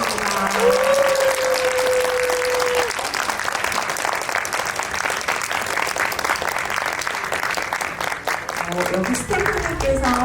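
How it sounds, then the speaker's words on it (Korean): A theater audience applauds steadily and loudly as actors leave the stage after a Korean film event, with dense sustained clapping throughout and a host speaking over it. "퇴장하시는 동안 박수로 보내드리도록"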